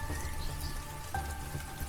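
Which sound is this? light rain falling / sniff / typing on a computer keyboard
light rain falling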